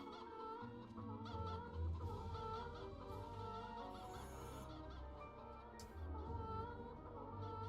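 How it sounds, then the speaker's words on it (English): Loud, repetitive chicken clucks from the 3D metroidvania game Poppet Quest, continuing steadily over layered game music and effects, with a bright chime-like burst midway. "I thought they fixed that chicken noise that wasn't so ridiculously loud,"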